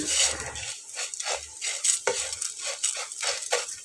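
Flattened rice (chira) soaked in a little oil is stirred and fried crisp in a pan, a close series of rhythmic dry scrapes and light rattles with a soft sizzle underneath.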